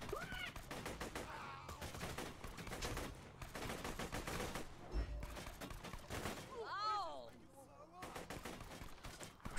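Gunfire fills a fight in the video game Borderlands 2, with dense, rapid bursts of shots and crashing impacts across most of the stretch, followed by brief higher electronic game effects.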